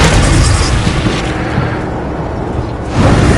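A Bombarda spell explosion in a Hogwarts video game, a loud deep boom that rumbles and fades, followed by a second heavy blast swelling at the end.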